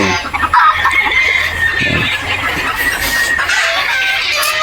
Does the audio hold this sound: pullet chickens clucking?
yes